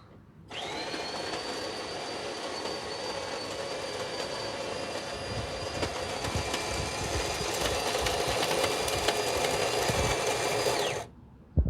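A DeLonghi Perfecta espresso machine pump runs alone with a steady, close, high-pitched whine and a buzzing drone for about ten seconds, growing slightly louder before it cuts off abruptly.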